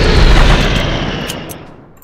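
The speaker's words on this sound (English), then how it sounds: "that's where our airstrike will hit then" Airstrike explosions in the strategy game Unity of Command II: a heavy booming blast with rumbling low end that decays over two seconds, followed by a couple of fainter thuds, with no talk.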